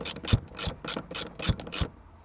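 Ratchet wrench tightening the mounting bolt of a four-point racing seat belt in a car, giving six or seven sharp, evenly spaced clicking bursts up close with no talk.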